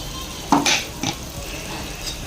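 Curd and beetroot gravy poured into hot oil, with a few short bursts of sizzling and the clatter of a spoon stirring in the pan, no voices.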